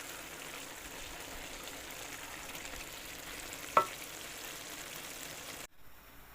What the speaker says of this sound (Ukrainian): І зараз я буду додавати сюди е, ці кабачки